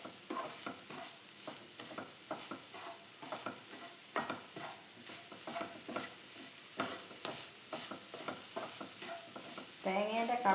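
Grated coconut and sugar being stirred in a pan for coconut barfi, a steady run of scraping spoon strokes over a soft sizzle, with a brighter clatter near the end.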